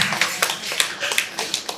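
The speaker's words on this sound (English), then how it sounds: "Let's clap for her." A small group of people in a training session clap for a volunteer, with a quick, uneven patter of close hand claps that keeps going without voices.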